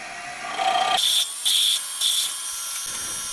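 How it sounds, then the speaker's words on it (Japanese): Holes are drilled for a camshaft mount on a four-cylinder conversion of a Honda Monkey engine, with three short bursts of a high-pitched drill whine separated by pauses. "原点が出し終わったら穴開けしてきます"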